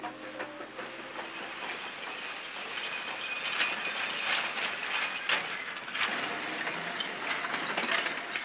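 A train rolls in with steady rumbling, rhythmic clickety-clack of wheels and occasional hissing and squeal, fairly distant and continuous.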